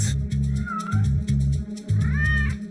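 A pet cat meows several times in a row, each call drawn out and fairly close, with a higher rising cry near the end and no talking over it.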